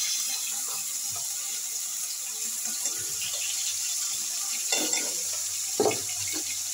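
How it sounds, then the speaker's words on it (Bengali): A paste of onion, ginger and garlic sizzles softly as it is stir-fried in ghee for a crab curry, a faint steady hiss with occasional spatula scrapes and a couple of louder clatters near the end. "এবার আমি একটু কষিয়ে নিচ্ছি মশলাটা ঘিয়ের সঙ্গে"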